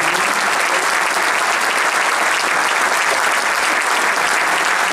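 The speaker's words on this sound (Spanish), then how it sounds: "Más fuerte el aplauso" A dense, sustained wall of applause from a large audience at an anniversary celebration, loud and even throughout with no pauses, a faint murmur of the crowd beneath it.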